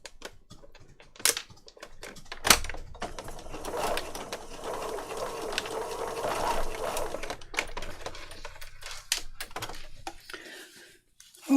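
A sewing machine stitches paper for a boho junk journal in short bursts of rapid mechanical clatter, with scattered clicks and handling noises between runs.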